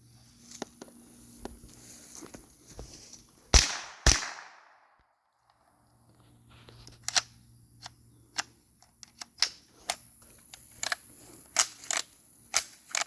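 Shots from an HK MP5 in .22 Long Rifle, sharp cracks fired one at a time outdoors: a pair of loud reports, a few seconds of quiet, then a quicker run of snappy shots with faint hum underneath.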